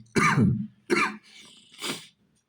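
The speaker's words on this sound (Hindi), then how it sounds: "खांसी आ रही है" Three coughs close to the microphone, two strong harsh ones followed by a softer one, with no talking.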